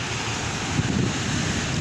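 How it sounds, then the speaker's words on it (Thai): Strong, cold wind roars steadily outdoors, buffeting the microphone with a continuous low rumble and hiss and no break. "วันนี้ก็บรรยากาศก็ลมแรงครับ ลมแรงเย็นมากเลยครับ"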